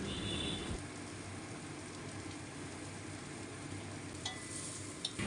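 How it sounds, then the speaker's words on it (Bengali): Chopped garlic sizzles in hot oil in a home kitchen pan, a steady, soft crackling hiss running throughout with occasional faint scrapes and clicks, no voices. "রসুন কুচিগুলোকে এখন তেলের সাথে একটু ভাজা ভাজা করে নিব"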